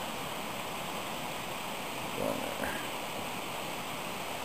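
Steady broadband rush of the high-running Lower Deschutes river, a constant close wash of flowing water with a brief faint disturbance in the middle and no voices.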